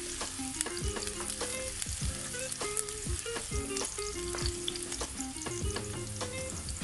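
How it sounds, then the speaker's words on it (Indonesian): Chopped onion and garlic frying in a pan for ayam masak paprik, a busy continuous sizzle with frequent crackles and repeated spatula knocks and scrapes, close and unbroken, no speech. "pertama kali aku masukkan bawang besar yang telah dicincang. Masukkan juga bawang putih."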